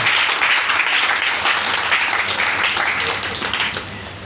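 A church congregation applauding, dense sustained clapping that fills the room and tapers slightly at the end, with a voice faintly audible beneath.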